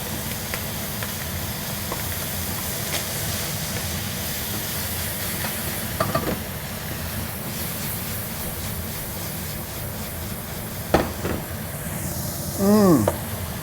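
Mushrooms and bacon fry together in a pan for linguine, giving a steady, close sizzling hiss with a few brief clatters of a utensil.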